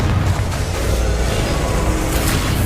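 A Confringo spell explodes during a Hogwarts Legacy duel. A dense, rumbling blast and crackle of combat noise holds loud and steady throughout without a clear single impact.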